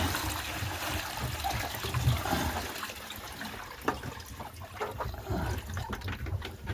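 Fresh water for chickens pours and trickles steadily at close range, a soft, continuous splashing flow with a few brief louder gushes and no talk over it.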